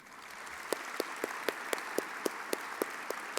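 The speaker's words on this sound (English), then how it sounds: "Let's give them all another round of applause, please." Audience applause at a police department annual award ceremony, a faint, distant wash of clapping with regular, sharper claps standing out at a steady rhythm.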